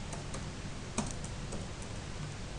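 Soft, sparse keystrokes on a computer keyboard while a terminal command is entered on Linux Mint, faint irregular clicks over a steady background hiss.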